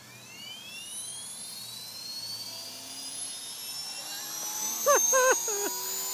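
A mini remote-control helicopter whines with a high rising rotor and motor tone, steady and fairly close, while a brief voice-like warble comes in near the end.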